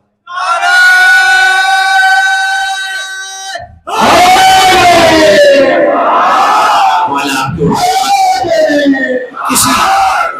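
A large crowd at a Shia majlis in an imambargah in Quetta chants a religious slogan in loud, full-throated unison, a sustained first call followed by several answering bursts of massed voices, close and dense.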